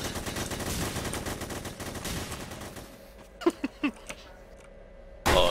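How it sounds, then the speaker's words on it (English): Dense, rapid automatic gunfire rattles on continuously in the multiplayer shooter game The Hidden, then breaks off, leaving a few short voice sounds and scattered game noises before another loud burst at the end. "Oh, that continuous fire."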